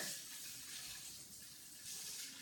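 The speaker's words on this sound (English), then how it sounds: "And then an equal amount of cold water." Cold water pours into a sourdough starter of organic all-purpose flour, a soft steady faucet-like stream, quiet and alone.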